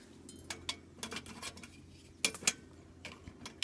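Metal clinks and clatters as a small ammo can stove and its pan grab are handled and fumbled with, a few sharp separate knocks and rattles, close and fairly quiet with no talking.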